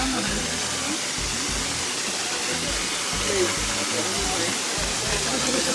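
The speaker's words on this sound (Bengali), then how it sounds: "এই হচ্ছে ঝর্ণা, হিমছড়ি ঝর্ণা।" Himchori waterfall at Cox's Bazar roars in a loud, unbroken wash of falling water, with faint voices murmuring underneath.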